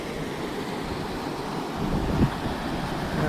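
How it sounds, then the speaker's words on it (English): A river flows at Lynx Creek Campground as a steady, broadband rushing wash, moderately loud and continuous, with some wind buffeting the microphone and no talking. "This is the river."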